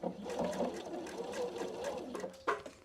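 A Pfaff Expression 720 sewing machine topstitches fabric with a close, rapid, steady mechanical whirr and needle chatter, stopping with a short clunk near the end.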